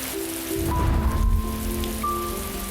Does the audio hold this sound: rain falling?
yes